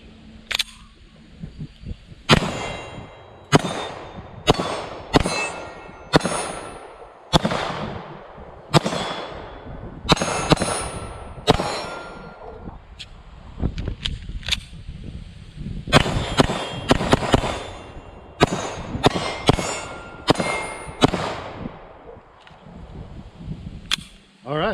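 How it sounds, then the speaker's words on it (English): A SAR9 pistol fires Winchester forged steel case ammo at steel targets, a long string of sharp, loud shots, some in quick pairs and clusters, with faint metallic pings from hits between reports. "we got some Winchester forged steel case. Let's see if this thing will run some steel case ammo."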